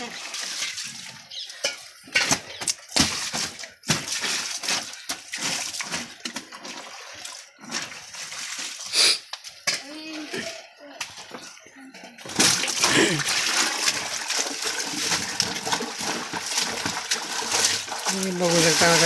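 Heavy cotton quilts are being hand-washed outdoors in a village, with soft splashing and sloshing water that grows into steady louder pouring and wringing near the end, while people talk intermittently.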